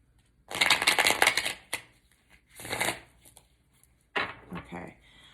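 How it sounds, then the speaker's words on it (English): A deck of tarot or oracle cards is riffled and shuffled in several quick bursts, close and crisp, separated by brief pauses before a reading. "Should have pre-shuffled."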